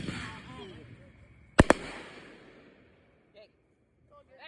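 Backyard fireworks at a private property: two sharp, loud close bangs in quick succession after a hissing fuse and fading crackle, with people talking before and a few faint pops afterward.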